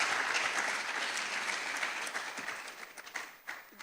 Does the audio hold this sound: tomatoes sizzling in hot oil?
no